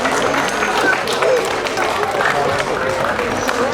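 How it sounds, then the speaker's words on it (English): Girls clap for the boys at a junior football club presentation day, giving a few seconds of steady, moderately loud scattered applause from a crowd, with voices mixed in. "Girls, can you give the boys a clap"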